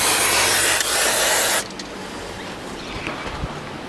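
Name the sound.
spraying penetrating oil around car spark plugs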